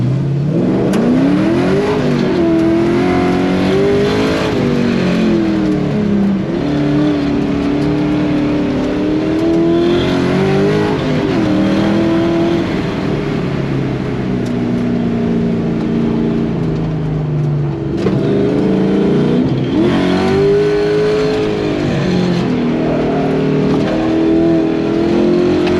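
A Chevrolet C10 pickup truck at a Texas classic truck show accelerates steadily on a ride, its engine droning and rising in pitch through repeated gear pulls, loud and close with no talk.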